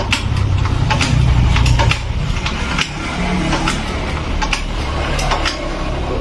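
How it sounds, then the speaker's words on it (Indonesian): A Honda Scoopy scooter that will not start, kick-started up close with repeated mechanical strokes and clattering ticks, loud and steady, with a kickback felt on each stroke. No one speaks. "Ini saat diengkol kayak gini, dia ada hentakan balik tuh."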